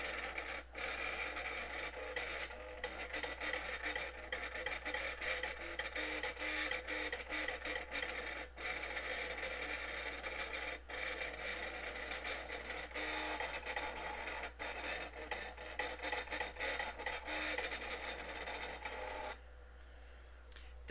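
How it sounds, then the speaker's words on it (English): A Boss Kut Gazelle cutting machine drawing a rose with a marker gives off a faint, continuous mechanical whir with soft scratchy movements and small clicks, steady throughout. "The machine is finished drawing the rose"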